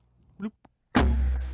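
A voice imitates the M79 Thumper grenade launcher's hollow bloop, a single short, low, thumping pop close to the mic that fades quickly, preceded by a couple of faint mouth sounds.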